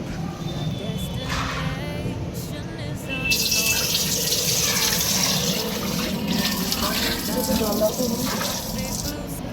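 Water runs or is poured steadily at a household sink, close by and continuous, growing slightly louder partway through, while people talk over it.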